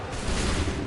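Musket volley gunfire in the Assassin's Creed 3 video game, a dense, rolling crash of many shots fired together that fills a short, loud burst with no pause.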